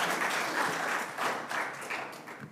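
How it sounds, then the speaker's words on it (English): An audience applauds its sponsors at a live event at a school, a steady wash of many hands clapping at moderate distance, fairly quiet and even throughout, without speech. "One more round of applause for our sponsors."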